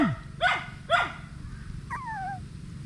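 A protective mother dog with four puppies gives two quick sharp barks close by, then a thin rising whine, over low background hum.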